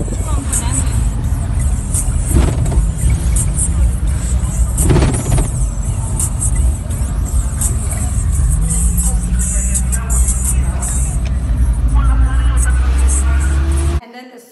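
A Kenyan matatu public minibus rumbling along a road with loud engine noise and music playing throughout, voices talking underneath, before the sound cuts off near the end.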